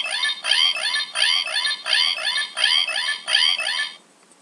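A Power Rangers Dino Thunder Dino Morpher toy emits its electronic transformation sound, a loud, tinny, repeating chirp pattern pulsing about seven times in quick succession before cutting off abruptly.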